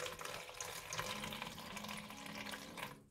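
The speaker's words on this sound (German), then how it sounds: "Dann gut lauwarmes Wasser" Lukewarm water runs steadily from a kitchen tap while bread dough is being made, a continuous close splashing stream that cuts off abruptly at the end.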